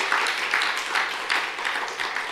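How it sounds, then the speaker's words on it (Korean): A church congregation applauds in thanks at a Christmas celebration service, a dense, steady wash of many hands clapping throughout with gentle swells, fairly close and filling the room. "우리 다시 한번 우리 감사의 박수 하도록 하겠습니다."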